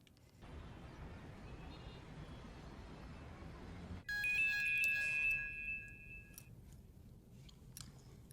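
A phone ringtone bursts in partway through as a bright electronic melodic tone, fairly loud and close, over a steady low background hum, then fades back into the ambience.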